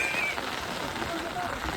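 Rain falls outdoors during a monsoon fishing outing, a soft, steady patter close by with a brief faint whistle-like tone near the start and again later.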